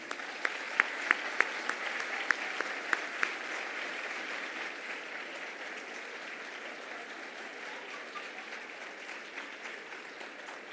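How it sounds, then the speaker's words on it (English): A graduation audience fills a room with steady applause that holds for about eleven seconds, with a few sharper claps standing out near the start before the sound settles into an even, sustained patter. "all of you deserve a round of applause, so please join me"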